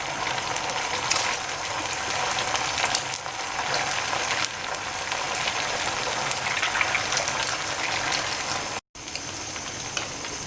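Sabudana (tapioca pearl) cutlets frying in hot oil in a kadhai, giving a steady, dense sizzle that runs the whole time with no voices and a brief dropout near the end.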